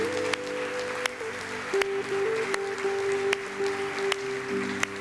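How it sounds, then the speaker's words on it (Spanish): A church congregation applauds in a soft, diffuse patter under sustained organ or keyboard tones, with sharp periodic clicks cutting through at regular intervals. "Fuerte el aplauso a Cristo."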